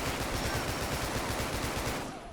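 A Fallout 4 weapon fitted with the rapid receiver mod fires one dense, continuous automatic burst, loud and close, that tapers off at the end.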